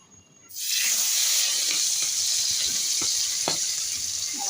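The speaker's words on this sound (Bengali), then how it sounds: "মাছ ভাজছি এই যে বাটা মাছ নিয়ে এসছে বন্ধুরা আর তেলাপিয়া মাছ" Bata and tilapia fish hit hot oil and burst into a loud, sustained hissing sizzle after a brief quiet start, with a few crackles and pops scattered through it.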